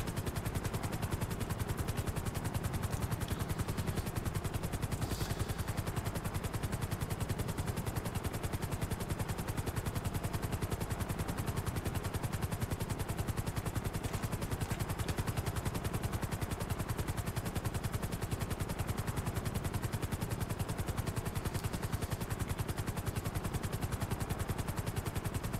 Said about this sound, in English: Lose the cops with the chopper.